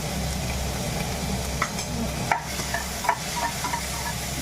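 Onion, garlic and green chili frying in hot oil for a red amaranth vegetable dish, a dense continuous sizzle with a few clinks and scrapes of stirring, close up, against a low background hum.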